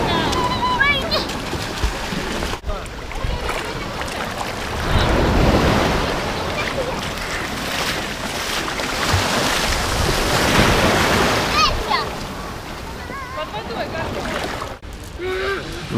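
Sea surf rolling in on a slightly stormy day, a steady broad wash of waves with louder surges, wind buffeting the microphone and people talking over it at a beach in Alushta, Crimea.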